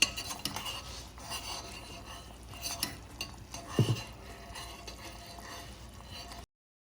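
A spoon stirs a thick sauce in a pot for Jamaican jerk chicken, with soft scraping and clinks of utensil against metal plus a faint sizzle, close and fairly quiet.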